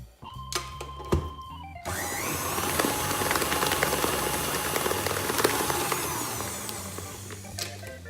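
An electric mixer whisks butter for buttercream icing, a steady loud whirring drone that starts after a few initial clicks and knocks and runs on continuously with no talk.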